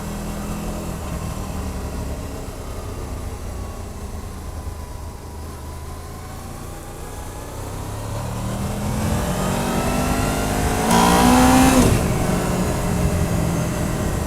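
A motorcycle engine hums steadily while riding, with wind noise, then builds as it revs up with a brief louder surge near the end.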